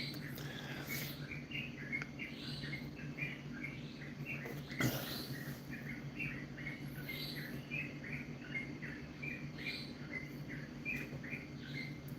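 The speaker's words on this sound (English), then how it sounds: "You mean the birds outside" Outdoors, birds chirp in quick repeated high calls, moderately near and continuous throughout, over a steady insect-like hum and a brief knock midway.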